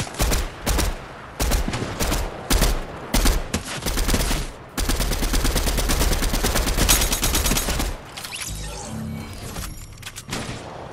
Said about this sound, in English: Someone shooting to our left.